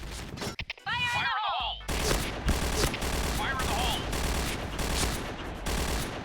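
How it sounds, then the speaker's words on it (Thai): A G11 rifle fires in rapid bursts in the Point Blank shooter game, with dense, loud gunfire nearly continuous and layered with game effects, while a voice talks over it. "เหมือนมันยิงออกทีละสามนัดนะใช่ไหม"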